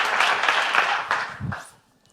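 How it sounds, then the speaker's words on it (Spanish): Audience applause for a speaker at a science talk event, a dense wash of clapping that starts at once and fades out over about two seconds, with a brief low murmur near the end. "Un aplauso para él."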